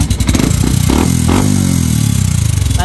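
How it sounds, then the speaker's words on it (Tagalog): A Yamaha Sniper 150 V2 motorcycle engine idles close by with a loud, rapid metallic clatter and knocking running through its steady rhythmic chug, heard alone. "Akala mo sira yung motor no? Ayan o, nakita nyo kumakalag."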